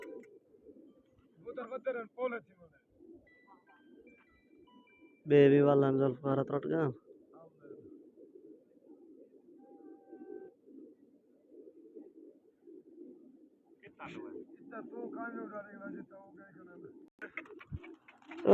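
Pigeons coo in a low, steady murmur through a pigeon-flying contest, running beneath several stretches of men's conversation and one loud burst of voice.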